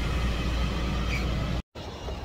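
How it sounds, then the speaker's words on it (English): Steady low rumble and hum from inside a moving passenger train, a continuous ride noise with no talking and a brief dropout near the end. "We are on the train."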